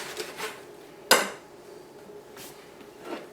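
A kitchen knife slices through the base of a corn cob that has been microwaved on high for three minutes, giving one sharp close cut with a brief clatter against a hard surface, then quiet handling noises.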